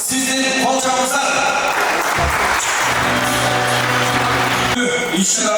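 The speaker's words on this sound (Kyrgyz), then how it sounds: "сиздин кол чабыңыздар" An audience at a sports award ceremony in Bishkek applauds, a dense steady clapping that fills the hall from start to finish, with a low hum and some voices beneath it.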